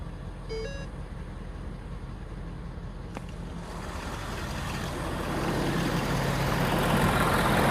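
Low, steady rumble of a Ford diesel truck engine idling, growing gradually louder and rougher, with a brief click early on.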